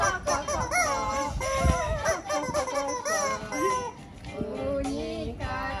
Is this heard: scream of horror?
no